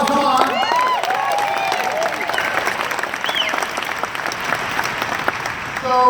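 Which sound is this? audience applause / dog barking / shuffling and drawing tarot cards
audience applause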